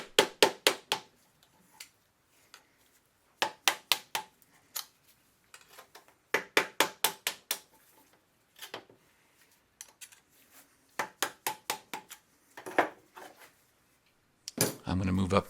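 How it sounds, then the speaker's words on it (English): Metal tapping and prying as a bearing flange on an Atomic 4 marine engine's reversing gear is worked loose with a scraper and mallet: sharp clustered taps in bursts with pauses, close and fairly loud, ending in a denser scrape. "The bearing flange will have to be pried off with some type of a scraper and a mallet."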